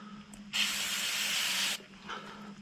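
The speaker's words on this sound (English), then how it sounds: "just give it a quick hit with the degreaser." Degreaser sprays onto the wire metal gauze of a Mitsubishi Triton catch can in one steady hiss lasting just over a second, close up, with quiet before and after.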